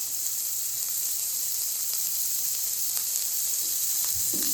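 Amudi fish with salt and green chilli sizzles loudly in a pan, a constant hissing fry close up with a few light stirring clicks and a spatula scrape near the end.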